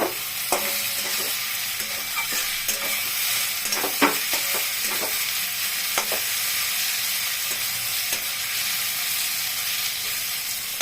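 Pointed gourd curry with sugar added fries steadily in a pan, a continuous sizzle broken by scattered scraping and clacking strokes of a spatula being stirred through it.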